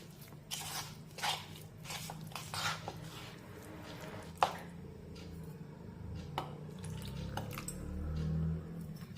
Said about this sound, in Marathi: थोडं थोडंसं पाणी टाकून याचं आपण बॅटर तयार करून घेऊया